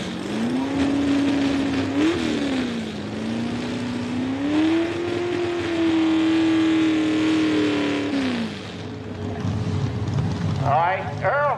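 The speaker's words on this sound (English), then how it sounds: "Earl, he's been having trouble getting his tractor geared right" A pulling tractor's engine revs at a mini tractor pull in Millers Tavern, Virginia, a loud sustained roar whose pitch climbs and holds for several seconds before dropping off, with a voice talking over it.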